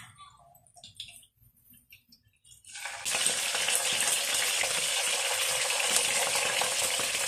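Catfish frying in hot cooking oil: after a quiet stretch with a few faint clicks, a loud, steady sizzle bursts in and crackles continuously, close and bright, with no talking.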